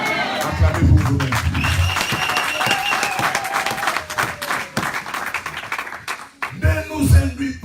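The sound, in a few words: congregation applauding and cheering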